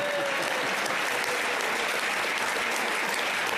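Applause from an audience at a Progressive Senate Group gathering: a steady, dense patter of many hands clapping for several seconds, fairly close and even throughout, with no talking over it.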